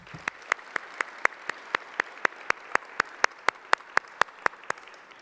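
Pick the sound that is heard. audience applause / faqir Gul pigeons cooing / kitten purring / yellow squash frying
audience applause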